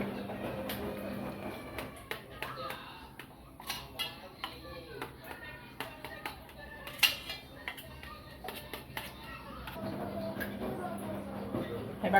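A knife cuts through soft khaman dhokla in a metal pan, giving scattered light scrapes and clinks against the metal. Quiet kitchen background and soft speech accompany it.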